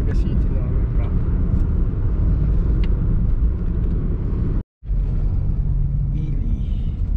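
A Mitsubishi Mirage G4 moves through slow town traffic, its steady low road and engine rumble loud and close from inside the cabin, with a brief cut partway through and talk over it.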